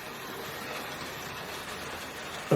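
A model GWR ROD 2-8-0 steam locomotive of Robinson design pulls a freight train on a Hornby and Bachmann layout, producing a steady, even rolling rumble and hiss at close range that continues without break, with no voices.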